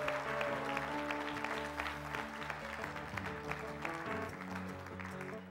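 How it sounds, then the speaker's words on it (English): Congregation applauding the mothers at a church service, a steady wash of clapping held throughout over a sustained organ or keyboard chord, no speech. "one more round of applause for our moms."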